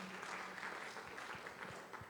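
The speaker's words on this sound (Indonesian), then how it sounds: "Yang setuju tepuk tangan buat dia." Church congregation clapping during a sermon, a quiet, distant patter of applause filling the room with no voice over it.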